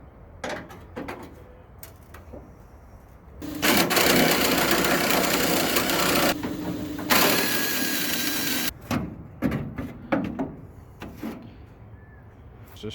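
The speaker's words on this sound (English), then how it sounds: "So I'm going to loosen them with this and then take them out with the air ratchet." Air ratchet loosening bolts on a fiberglass fender of a 1973–87 Chevrolet/GMC C30 dually pickup bed, heard as a loud, sustained pneumatic whirring burst lasting several seconds, framed by quieter clicks and handling noises.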